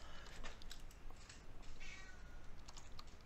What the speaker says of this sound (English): Your cat's meowing in the background.